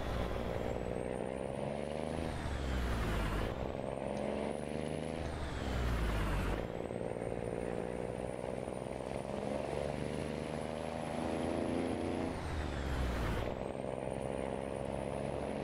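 A custom International Eagle 9900i truck in American Truck Simulator drones with a deep, steady exhaust note, rising through the gears with brief dips at each shift, loud and alone.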